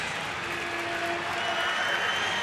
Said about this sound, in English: Ballpark rocking right now